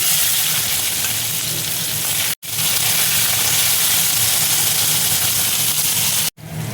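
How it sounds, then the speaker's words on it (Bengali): Chopped onion fries in oil with nigella seeds, a loud, continuous sizzling hiss broken by two brief silent gaps. "পেঁয়াজ কুচি দেখো দিয়ে দিচ্ছি"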